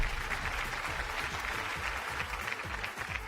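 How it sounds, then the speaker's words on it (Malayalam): Studio audience on a Malayalam game show breaks into sustained applause, a dense steady wash of many hands clapping at moderate loudness with no voices on top. "നല്ലൊരു കൈയടി പ്ലീസ്"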